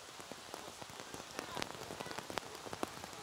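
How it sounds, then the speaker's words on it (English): Steady rain pours down at an outdoor archery venue during a compound women's team gold match in Shanghai, a dense even hiss broken by sharper drops and patters, loud and continuous with no talk. "Jamie Van Natta trying to block out all of that rain, and she does indeed."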